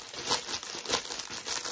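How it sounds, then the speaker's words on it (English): Plastic packaging crinkles up close in several rustling bursts, crisp and fairly quiet, with no talking. "Sorry for the crinkling."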